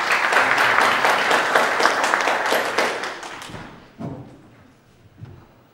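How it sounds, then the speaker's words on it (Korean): Audience applause at a Korean business forum on US–China big tech competition, a dense burst of clapping that fills the room for about three seconds, then fades to scattered claps and a couple of soft thumps. "큰 박수 부탁드립니다"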